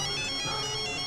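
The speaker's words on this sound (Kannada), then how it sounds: "ಪಕ್ಕದಲ್ಲಿ ಇಟ್ಕೊಂಡು ನನಗೆ ಫೋನ್ ಮಾಡಿದಿರಾ?" Mobile phone ringtone ringing steadily as a continuous electronic tone, fairly quiet and heard alone for about a second.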